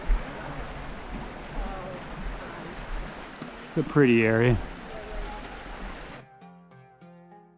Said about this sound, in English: So this is Kitchen Creek?